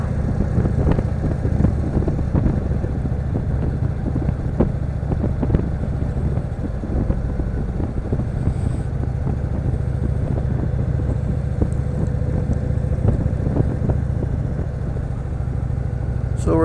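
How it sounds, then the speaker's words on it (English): A 2016 Indian Chief Vintage motorcycle with its stock exhaust rumbles steadily at idle nearby, a deep throaty engine note that holds without pause for the full length. "nice throaty rumble to it, even with the stock exhaust pipe on."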